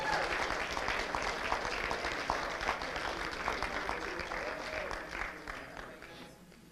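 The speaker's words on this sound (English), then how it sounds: "Let's give them all a big round of applause." Sustained audience applause at a school board meeting, a dense steady clatter of many hands that carries on for several seconds before gradually tapering off at the end.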